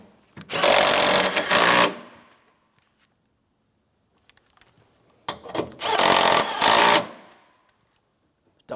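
Power tool runs in two loud bursts of about a second and a half each, snugging 10mm upper mounting bolts on the fan shroud of a 2007-2014 GMC Sierra 2500 HD, with quiet gaps between.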